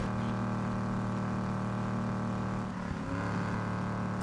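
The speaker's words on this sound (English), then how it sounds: "Driving through the city and hoping for the best." A car drives through a city in the video game PUBG, its engine a steady, loud drone with a brief dip and shift in pitch near the end. No one speaks.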